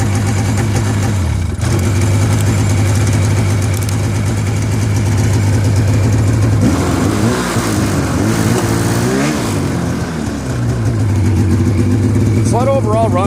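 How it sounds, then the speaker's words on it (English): A snowmobile engine runs close by at a steady idle, then revs up and down in rising and falling surges before settling back to idle, loud throughout. "Sled overall runs really good."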